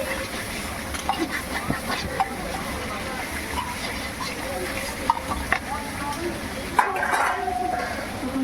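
Spices stir-fried in a pan for mutton kosha in a busy hotel kitchen, a steady low sizzle under clattering utensils, scraping and faint background voices, with a brighter hiss swelling near the end.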